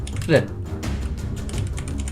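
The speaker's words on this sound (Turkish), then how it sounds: "Klavyeye bakarak yazıyor ya." Quick, close clicking keystrokes on a computer keyboard during a typing speed test, rapid and continuous, with a voice speaking over them.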